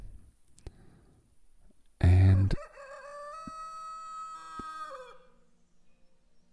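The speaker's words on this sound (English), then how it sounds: "good morning to you too, Rooster" A loud rooster crow rings out in the video game Lords & Villeins, one long drawn-out call following a burst of noise, over quiet game background, with a brief spoken word just before.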